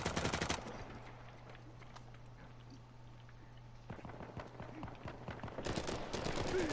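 Gunfire in Uncharted 4 multiplayer, fast bursts of automatic shots at the start and end with scattered quieter shots in between over a low steady hum.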